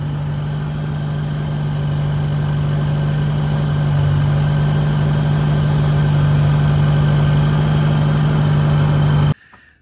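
A Rotax engine with an Ignitech CDI and reduced ignition timing, idling smoothly with a loud, steady drone and a strong constant hum, close up, cutting off abruptly at the end.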